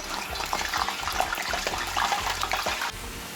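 Green plantain slices sizzle and crackle in hot oil, a steady close frying hiss with small popping bursts, cutting off near the end.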